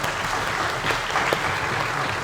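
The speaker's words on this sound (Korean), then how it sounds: "강연해 주신 우리 교수님께 한번 박수 한번 드릴까요?" An audience claps steadily and fairly loudly for a lecturing professor at a university forum, a dense, even patter of many hands that holds up throughout.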